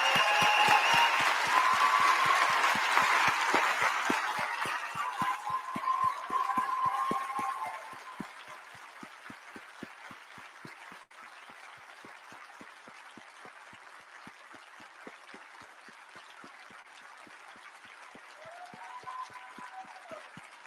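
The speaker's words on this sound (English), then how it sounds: "I would ask everybody to cheer these people" An audience claps loudly with some cheering. The applause is dense and sustained at first, then fades into thinner, scattered claps.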